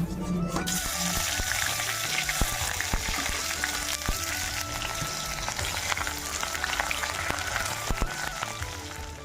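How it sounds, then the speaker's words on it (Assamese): Onions sizzle and crackle steadily in hot oil for a jackfruit curry, a dense continuous frying hiss with occasional stirring clatter close by. "গৰম হৈ গ'ল, এতিয়া পিঁয়াজখিনি দি দিওঁ।"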